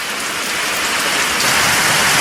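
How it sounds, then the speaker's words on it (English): Heavy rain falling outdoors during canteen cup cooking on a wet day, a loud, dense, continuous hiss of drops pattering on surfaces nearby, with no talk. "The rain's not working with me here"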